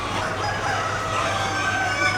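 Chickens and a rooster at a large poultry farm that also keeps fattening cattle, heard as a steady, dense wash of clucking and crowing from many birds at moderate distance, with no talk.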